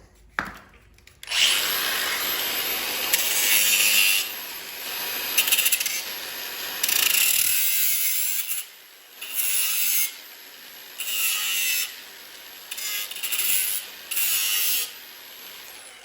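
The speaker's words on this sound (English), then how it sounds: "I've never cut an oil filter open before, so now I'm gonna go a little bit further in." A car oil filter for an Audi/VW 2.0T is cut open, a harsh high-pitched mechanical cutting whine in repeated bursts of a second or two, separated by short pauses, close and fairly loud.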